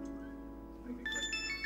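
Telephone ringtone chiming late at night in a Turkish drama, faint at first and then a brighter melodic ring over a low background hum.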